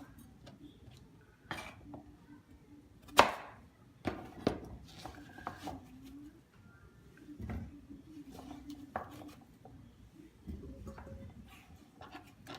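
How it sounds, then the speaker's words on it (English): Fresh sweet potatoes roughly chopped with a knife on a board, giving scattered dull knocks and a few sharper chops at an uneven pace. Quiet and close, over a faint low background hum. "It's what I'm demonstrating, just cutting up these potatoes."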